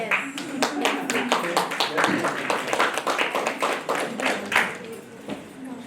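An audience claps for the Rithika Foundation at its Ugadi women's awards ceremony, a steady run of sharp, close hand claps lasting several seconds with voices murmuring underneath.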